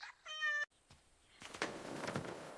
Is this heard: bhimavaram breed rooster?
no